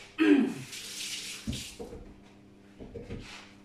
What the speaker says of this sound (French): Juste me rincer les doigts.